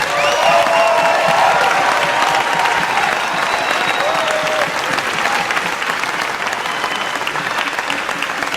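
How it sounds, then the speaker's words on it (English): A large crowd applauds bodybuilders on stage at the Arnold contest, loud, sustained clapping with some cheering and whistles mixed in, holding steady throughout. "So if y'all could please just join me in a round of applause to appreciate these guys here."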